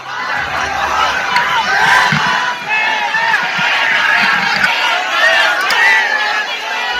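Crowd at an outdoor election rally in Khandwa calling back to a Nara-e-Takbir chant, a dense roar of many voices with shouts and cheers rising and swelling over about seven seconds.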